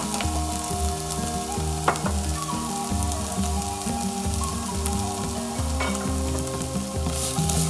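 Sandwich filling with chili flakes sizzles and fries steadily in a pan while being stirred, with close scraping and clinking of the utensil over continuous crackling, no talk.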